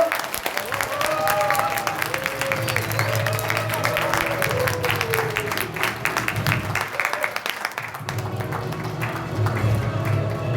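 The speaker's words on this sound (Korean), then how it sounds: "강사님 모실 때 큰 박수 부탁드립니다" An audience at a Korean seminar applauds loudly to welcome a lecturer to the stage, with continuous clapping throughout and voices and a tonal sound audible underneath.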